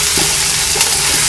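Marinated chicken, prepared with vinegar and tikka masala, hitting hot fat in a pan, a loud, dense sizzle filling the whole brief moment with faint stirring scrapes.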